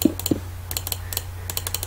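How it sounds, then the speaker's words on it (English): Rapid clicking while playing Minecraft, a quick series of sharp light clicks in close bursts with a couple of soft thumps at the start. "I'm clicking as fast as I"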